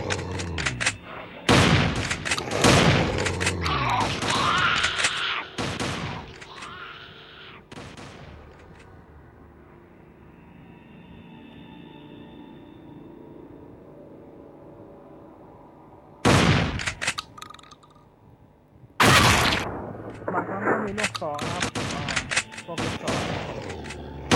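Rapid bursts of gunfire in a zombie shooting video game, loud volleys at the start and again near the end with a quieter stretch between.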